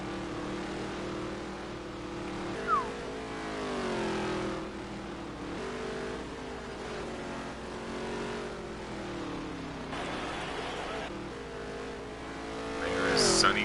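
Race cars in the NASCAR Heat 3 video game make a steady engine drone with pitch swells as they accelerate and shift gears, the sound of a pack lapping the track, moderate in level with a brief screech at the end.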